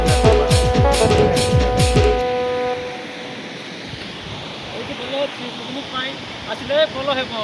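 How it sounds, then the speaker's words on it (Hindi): Harigarh waterfall in Koraput, Odisha rushes with a steady broad roar. It follows a few seconds of loud music, and voices talk faintly over the water near the end. "हारीगढ़ वाटरफॉल"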